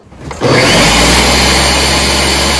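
Blender starting up and running hard on peri peri sauce with oil and rice vinegar, a loud steady motor whir after a short rising start.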